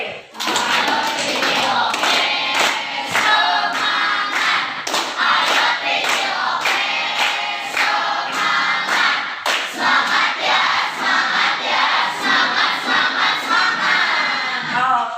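Students in a classroom perform a clapping game, sharp rhythmic hand claps in quick repeated patterns mixed with loud group chanting, steady and close for the whole stretch.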